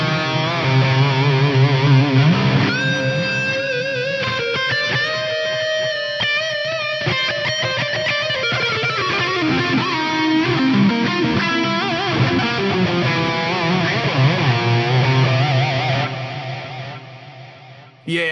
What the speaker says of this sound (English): This one has been matched to the iconic Lexicon PCM70 circular delay, complete with all the weird little quirks of that particular unit.